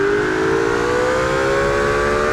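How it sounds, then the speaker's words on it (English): A steady engine drone from a car outside in the BeamNG racing game, a sustained tone rising slowly in pitch as it revs, with no talking. "Listen to the car outside."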